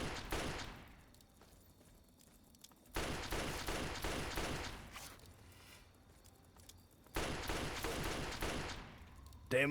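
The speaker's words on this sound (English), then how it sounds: "Let's see how the 32 pistol handles this." Bursts of .32 pistol fire in Fallout 3, three separate clusters of rapid sharp shots with quieter gaps between them, no talking.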